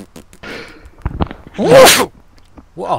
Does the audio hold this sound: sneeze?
yes